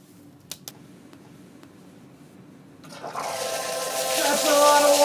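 A couple of faint clicks, then a sudden loud rush of water from a lab emergency safety shower pouring down heavily and continuously, growing stronger toward the end.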